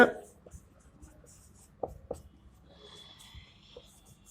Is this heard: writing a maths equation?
yes